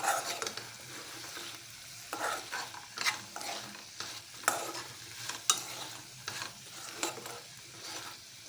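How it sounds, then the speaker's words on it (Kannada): Mushroom 65 being stirred and fried in a pan: a steady close sizzle with repeated scraping strokes of the spoon recurring every second or so, and no talking. "ಚೆನ್ನಾಗಿ ಮಿಕ್ಸ್ ಮಾಡ್ಕೊಳ್ಳೋಣ."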